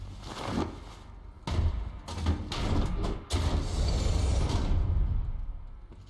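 A heavy mechanical door in the Horizon Zero Dawn video game grinds and creaks open with thuds and clanks, rumbling low for several seconds.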